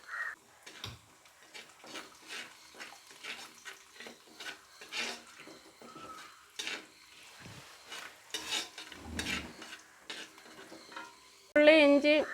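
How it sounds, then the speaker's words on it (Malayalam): Chili powder and masala mix frying in oil for beef pickle, stirred with repeated scraping strokes and a soft sizzle, close and moderately loud, with crows cawing faintly in the background and a louder clatter at the end. "ആ എണ്ണയിൽ തന്നെ മൂപ്പിച്ചെടുത്താൽ മതി."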